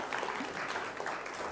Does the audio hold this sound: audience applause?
yes